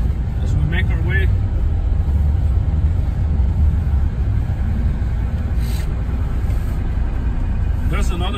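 2004 Chevy Silverado dually truck in two-wheel drive moving through fresh snow, a loud continuous low rumble of engine and tires from inside the cab, with someone speaking over it.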